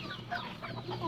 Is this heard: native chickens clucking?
yes